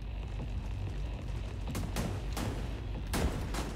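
Shotgun blasts in the shooter game The Division 2, several sharp reports spaced irregularly over a steady, dense background of in-game noise, with no one talking.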